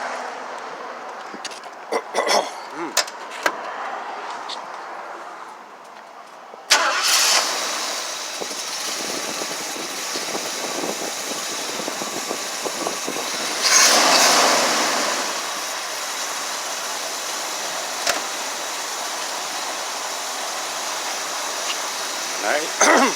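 A 1978 Lincoln Mark V with a carburetor engine catches abruptly and settles into a steady, smooth idle close by. Someone talks over the running engine throughout.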